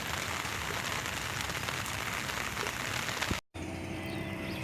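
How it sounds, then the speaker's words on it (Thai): Steady rain on a natural canal at a fishing spot makes a dense, even hiss that fills the clip, cut by one brief silent gap before it continues slightly quieter. "ฝนจะหยุดหรือเปล่า"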